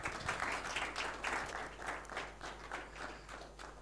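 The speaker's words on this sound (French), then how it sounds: "On peut les applaudir quand même s'il vous plaît." Audience applause at a university entrepreneurship conference in Clermont Auvergne: a faint, steady patter of many hands clapping in rhythmic waves that thins slightly toward the end.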